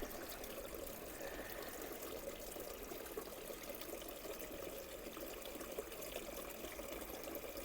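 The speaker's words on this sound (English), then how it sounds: "But that's the other water feature now running." A garden water feature in a UK garden runs with a quiet, continuous trickle and splash, steady throughout and alone.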